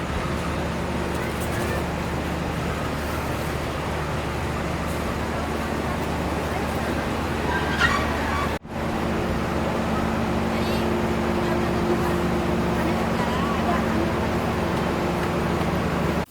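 A heavy, steady low rumble with a constant hum from a locomotive reversing, likely during a brake test, with a brief dropout partway through.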